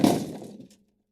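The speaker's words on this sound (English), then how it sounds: "A lunchbox dropped on the floor, and everything in it fell out with a loud clatter." A lunchbox drops onto a classroom floor and its contents spill out, giving one loud clattering crash with a scatter of rattling pieces that quickly trails off into silence.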